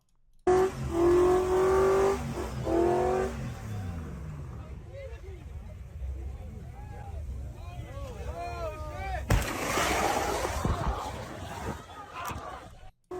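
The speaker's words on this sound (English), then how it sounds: "We got a nice GMC doing a burnout." A GMC truck does a burnout at a permitted lot, its engine revving hard with screeching tire squeal, then a rough idling roar and a renewed loud burst; people talk and shout nearby.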